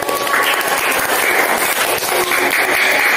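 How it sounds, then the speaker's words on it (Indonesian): Schoolchildren in a classroom clap for the winner of an arm wrestling match, a brisk, uneven burst of many small hands close by, with a raised voice ringing over it. "Oh, tepuk tangan."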